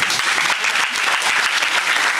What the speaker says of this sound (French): je crois que ça mérite encore plus d'applaudissements